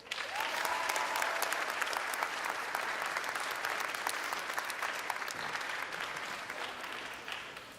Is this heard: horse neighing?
no